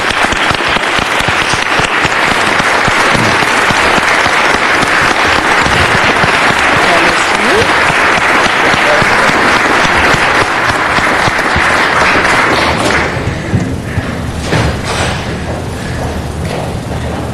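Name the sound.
applause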